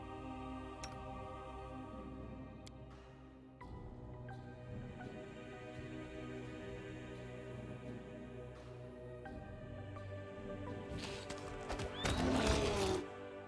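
Horse neighing in the fantasy role-playing game Pathfinder: Wrath of the Righteous, with whinnies over a low musical background and a louder burst of clip-clop and commotion near the end.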